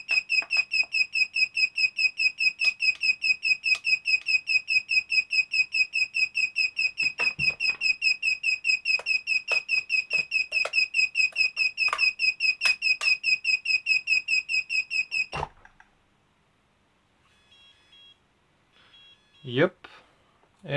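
A fast, relentless train of high electronic beeps from an FPV racing drone, maybe a low-voltage alarm, runs close and steady for about fifteen seconds, then stops, leaving faint handling noises and a couple of soft knocks.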